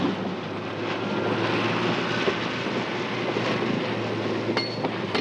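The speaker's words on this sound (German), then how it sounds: "Hier kam der Traktor wie gerufen." A 1960s tractor clears bush and savanna land in West Africa, its engine making a constant, moderately loud mechanical rumble with a low hum and faint clinks.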